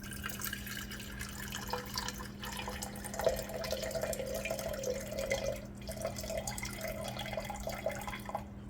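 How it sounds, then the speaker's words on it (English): Seven ounces of water trickle into a container on a scale for making lye soap, a faint, steady pouring and dripping over a low hum, with no talking. "We're gonna start by adding 7 ounces of water."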